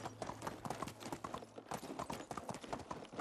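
Horse hooves clip-clop in a steady trotting rhythm in the medieval life-sim game Medieval Dynasty, moderately loud and continuous, with faint game ambience behind and no talk.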